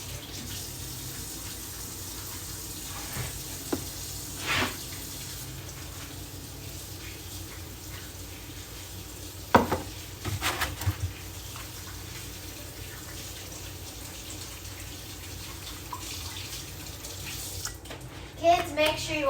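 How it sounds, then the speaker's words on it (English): A kitchen tap runs steadily while hands are washed in the sink, a continuous close hiss of water broken by occasional splashes and clatters, with a voice briefly heard. "I need to go wash my hands."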